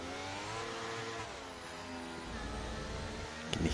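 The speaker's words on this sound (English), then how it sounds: "You can hear the over revs there for Koivuniemi around that slow left-hander." A Formula 1 race car engine screams at high revs in an F1 racing video game at the Brazilian Grand Prix, with the pitch bouncing against the limiter through a slow left-hander, steady and loud, ending with a short crackle.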